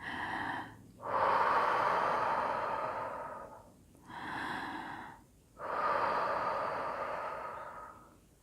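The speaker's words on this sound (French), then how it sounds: "Respiration abdominale" Slow, deep abdominal breathing, close and clear: long airy inhalations and exhalations alternate with brief pauses between them, with no talking.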